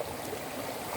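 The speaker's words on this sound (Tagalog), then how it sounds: "Sapa na lang ito guys." A shallow creek, once a river, flows steadily in summer with a close, continuous babbling rush and no voices over it.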